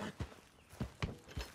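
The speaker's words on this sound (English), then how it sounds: "And here a few horses." A few soft, spaced hoof thuds of horses walking slowly in Red Dead Redemption 2, fairly quiet, with no talking.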